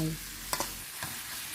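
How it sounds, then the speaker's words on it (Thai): Holy basil is stir-fried in a pan for chilli-paste clam fried rice, a faint sizzle under a couple of quick scraping stir strokes. "ผัดให้ทุกอย่างพอสลดค่ะ"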